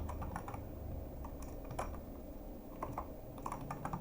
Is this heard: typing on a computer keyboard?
yes